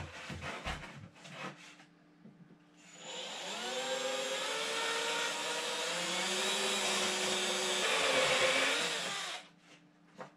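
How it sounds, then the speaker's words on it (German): A power drill bores a 14 mm hole into a thick-walled plastic garden sprayer, a rising whine that settles into a sustained grinding drone for several seconds, then stops, with brief handling knocks before and after. "Ja, also bohre ich jetzt einfach mal rein."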